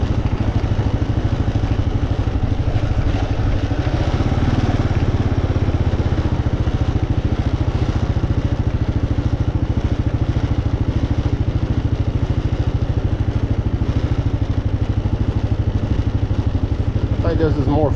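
A Kawasaki off-road motorcycle ridden along power line trails in a management area drones with a steady, close engine roar throughout, unbroken and loud from start to finish.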